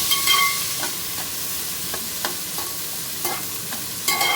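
Cut pieces of ivy gourd (tindora) fry in a pan with a constant bright sizzle, punctuated by scattered scrapes and taps of a spatula turning them.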